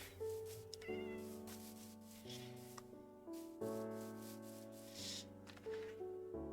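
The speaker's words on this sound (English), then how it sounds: "there's a bunch of cats spawned up here" Several Minecraft cats meowing softly among other gentle game sounds, with short mews scattered over a sustained musical background.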